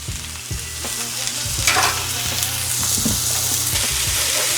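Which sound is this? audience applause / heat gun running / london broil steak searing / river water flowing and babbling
london broil steak searing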